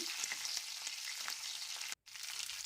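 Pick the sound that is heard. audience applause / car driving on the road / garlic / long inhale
garlic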